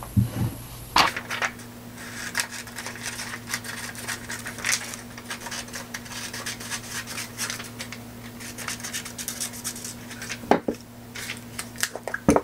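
Scissors cut out a printed photo for a mixed-media travel journal, with soft repeated snipping, rustling and scraping of paper close by, plus a faint steady background hum throughout.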